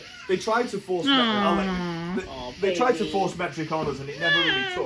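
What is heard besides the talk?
cat meowing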